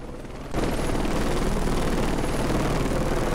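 Helicopter rotor and engine noise from the Heliborne combat game, a broadband roar that kicks in abruptly after half a second and stays loud and steady to the end.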